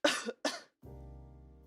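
A person with allergies coughs twice, close and sharp, followed by a steady low hum.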